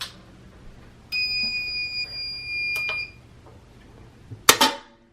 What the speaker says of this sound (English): You can hear the beep, which means it's done.